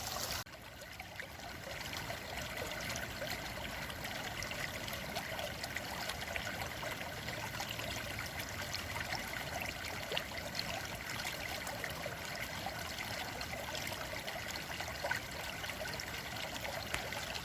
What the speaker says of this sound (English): It's definitely water.